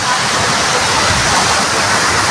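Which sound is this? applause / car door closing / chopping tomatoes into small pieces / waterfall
waterfall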